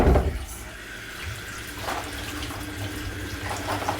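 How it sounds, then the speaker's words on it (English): Hot tap water runs steadily over potatoes in a kitchen sink, a close continuous splashing stream with no talk. "I'm going to put the potatoes under the hot water again to bring it up to temperature."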